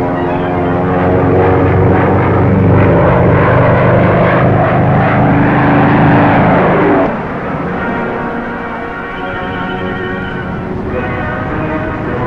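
Propeller airplane engine droning steadily as the plane descends through clouds in a 1935 aviation drama, loud and continuous, the tone shifting partway through as the engine note changes.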